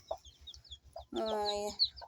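A native country hen, a broody mother breed raised with chicks on an integrated farm, gives a few short clucks and then a longer, drawn-out harmonic cluck, close by and alone.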